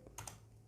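A single Enter key press on a computer keyboard during spreadsheet data entry, heard as a couple of faint, close clicks over a quiet room hum.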